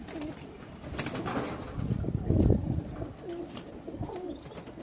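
Pigeons coo in a rooftop loft cage, repeated low throaty coos rising and falling at close range over a dull background hum, with faint chirps here and there.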